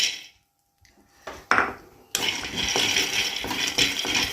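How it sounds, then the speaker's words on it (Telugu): Peanuts poured into a metal kadai for dry roasting, a few faint taps and then a sustained bright rattling patter of nuts scattering across the pan. "ఇప్పుడు ఫ్రెండ్స్ ఇప్పుడు నేను పల్లీలు వేస్తున్నాను"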